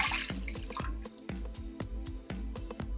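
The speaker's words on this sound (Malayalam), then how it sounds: "ഇനി നമുക്ക് പാനിലേക്ക് 1/2 ലിറ്റർ പാൽ ഒഴിച്ചു കൊടുക്കാം." Half a litre of milk is poured into a pan for jackfruit ice cream, heard as a close, quiet series of irregular liquid splashes and drips, about a dozen distinct plops over a few seconds.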